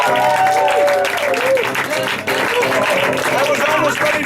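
An audience at a magic show claps at the Magic Castle, with loud, continuous applause mixed with voices talking over it.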